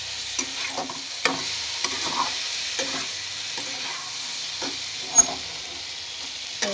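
Fried vegetables and boiled cauliflower with spices being stir-fried in a pan, a steady sizzle broken by regular scraping strokes of a spatula, close and fairly loud, with no talking.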